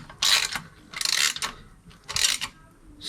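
A ratchet tightening SW Motech crash bar bolts on a BMW R1200GS gives three short bursts of close, rapid metallic clicking separated by brief pauses.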